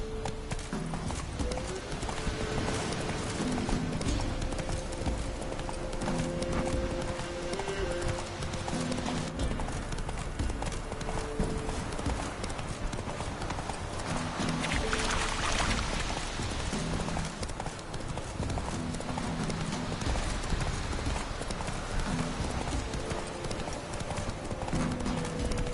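Hooves clip-clop in a fast, steady gallop in The Witcher 3, loud and continuous over an ambient game backdrop, with faint chatter now and then.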